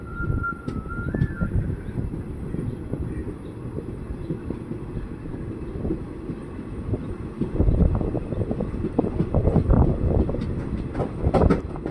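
A passenger train pulls away from Mullurkara railway station in Thrissur district, Kerala, with a steady low rumble and rattle of wheels and carriages that grows a little louder and rougher toward the end, and no voices.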